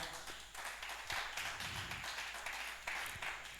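A church congregation applauding, steady faint clapping from many hands with uneven, scattered claps, somewhat distant and without voices.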